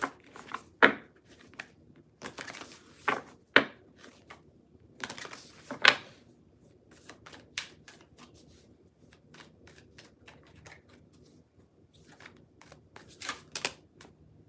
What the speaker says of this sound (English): Let me pull another card.